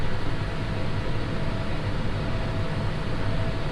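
A John Deere 6155M tractor cruises flat out on the road at about 27 mph, its engine turning roughly 1690 RPM, heard as a steady, even rumble and broad hiss with no breaks.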